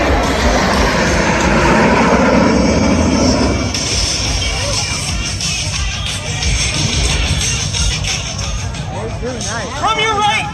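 Thunderbird jets at a 2022 airshow roar overhead in a loud, continuous broadband rush that shifts in pitch, mixed with crowd babble and a public-address voice throughout.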